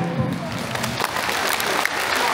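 A crowd at a comedy anniversary show claps together in a dense, sustained burst of applause that stays fairly loud and even throughout.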